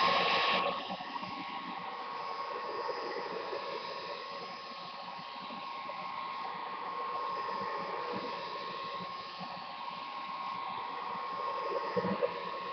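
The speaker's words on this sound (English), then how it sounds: "a blow dryer, put it on the low setting, and just run it for a few minutes around the bezel" A blow dryer on its low setting blows steadily for several seconds around the screen bezel of an ASUS X401A laptop, a continuous soft whirring hum, close and unbroken.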